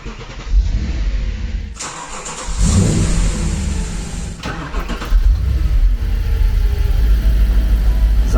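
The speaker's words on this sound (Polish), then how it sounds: "tutaj się odpala samochód tym guziczkiem" An Audi RS4 B7 V8 engine cranks via push button and catches, then settles into a steady, close idle with a brief rev; no one speaks.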